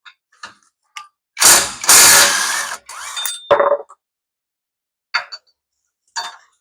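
A ratchet wrench undoing a screw during a rear wheel bearing replacement on a Perodua Alza, heard as bursts of rapid close-up clicking, then a few isolated clicks.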